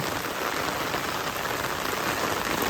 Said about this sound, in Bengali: তো যাই হোক, গেতে থাকি, বৃষ্টি হইতে থাকো।